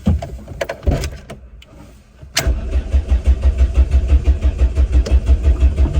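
Renault 5 engine cranking and trying to start, with rhythmic starter churning through most of the stretch after a brief pause, loud and close, with no talk.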